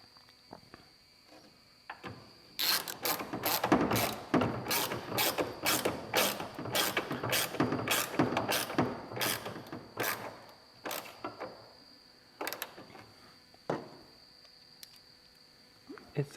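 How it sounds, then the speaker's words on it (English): A ratchet wrench drives home the two threaded-plastic-mounted bolts of a 2015-2020 Ford F-150 taillight assembly: loud, rapid pawl clicking in long close bursts, then a few shorter spaced clicks before falling quiet. "And then just go ahead and reinstall these two bolts."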